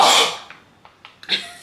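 A single close sneeze bursts out at the start, followed by faint breaths and small throat sounds.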